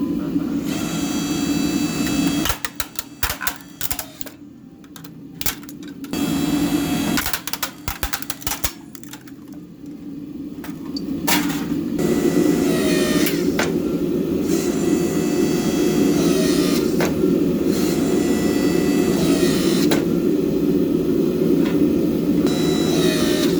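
Electric 4-ton log splitter converted into a blacksmith's forge press squishing hot steel, a loud steady motor hum broken by bursts of mechanical clatter and gaps where the press works, with no talk.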